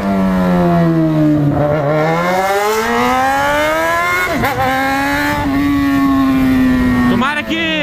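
A motorcycle engine climbing uphill on a winter ride drones loudly and close, its pitch sliding up and down as the rider shifts and changes throttle, with someone talking over it.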